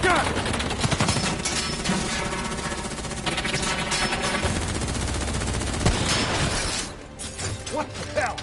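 Dense, sustained gunfire in the Black Ops 3 campaign, loud automatic bursts with shattering debris layered over game sound that barely eases near the end, and voices mixed faintly into the din.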